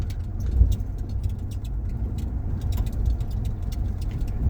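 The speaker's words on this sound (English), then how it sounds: "I'm just driving through." A car travels along a road on the Thumb Butte Loop, with a low, steady engine and road rumble heard from inside and light rattles over it.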